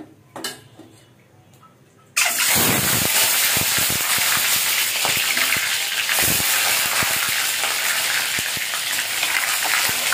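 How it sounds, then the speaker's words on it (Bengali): A salted egg drops into hot oil after a quiet moment, bursting into a loud continuous sizzle and spatter, with metal utensil clinks and scrapes against the pan throughout. "ডিমটা আমি লবণ মাখিয়েই ভেজে নেব।"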